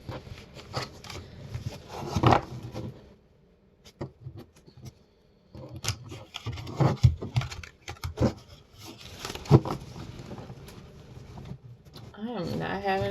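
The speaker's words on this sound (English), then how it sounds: "My cards are not wanting to shuffle." Tarot cards shuffled by hand with uneven papery riffles and crackling bursts, broken by short pauses; a voice briefly sounds near the end.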